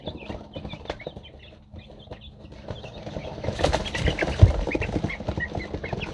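Baby chicks in a coop scuffle, with soft scratching, brief wing flutters and faint peeping chirps that grow busier and louder in the second half.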